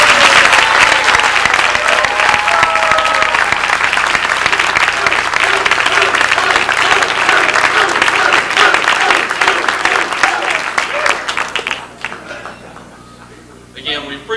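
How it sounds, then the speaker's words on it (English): Sustained, loud applause from an audience at a county bar association follies show, dense clapping filling the room for over ten seconds before thinning out and tapering near the end. "he certainly deserves your applause"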